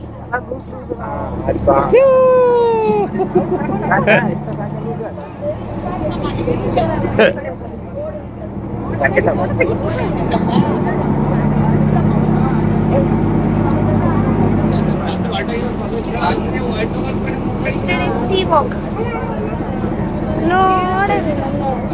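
A ferry's motor runs steadily as it sets off for St. Mary's Islands, a low continuous drone holding through the ride with people talking over it.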